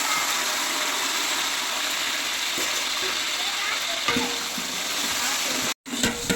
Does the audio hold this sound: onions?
yes